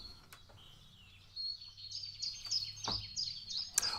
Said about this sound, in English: Birds.